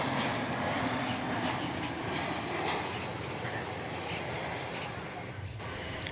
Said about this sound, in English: You'll see in the foreground here an American flight coming in from Boise, Idaho.